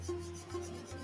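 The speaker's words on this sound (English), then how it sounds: "I'm just rubbing this blue in" Blue colour rubbed into a drawing with quick, close scratchy strokes, three short rhythmic rubs within about a second, alone with no talk.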